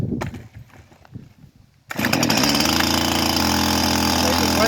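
A Stihl two-stroke chainsaw idles unevenly with a quiet sputter. It then leaps into a loud, close, steady high-pitched engine rev that holds to the end.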